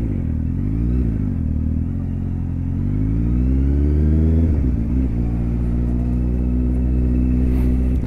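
Motorcycle engine revving hard and accelerating as the throttle is opened during a Skyriders group riding training session, a loud, continuous close-up roar rising and falling in pitch.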